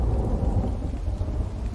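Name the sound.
thunderstorm lightning strike in video game Infected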